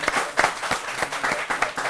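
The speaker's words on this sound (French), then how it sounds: "On applaudit Moumini Kaba encore." A comedy show audience applauds a performer with a steady patter of claps, fairly close and mid-level, lasting under two seconds, with faint voices mixed in.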